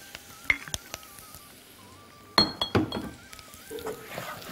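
Metal utensils clink against a pan while thyme and garlic are stirred, a few sharp isolated taps early, then a denser cluster of clinks and scraping with faint sizzle underneath.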